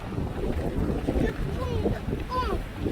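Strong wind gusting steadily outdoors, a broad continuous rush with buffeting on the microphone and faint whistling tones, close and fairly loud throughout.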